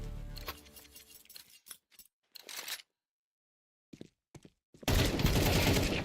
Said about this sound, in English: he barely walked away from that firefight after clearing his opponent off the ramp